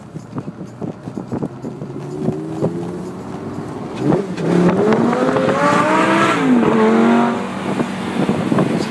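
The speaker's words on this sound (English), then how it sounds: "No, we're driving a Lamborghini." A Lamborghini Gallardo convertible, an all-wheel-drive 564 model, drives past loudly with a rising engine note and gear changes, mixed with wind rush and no talk.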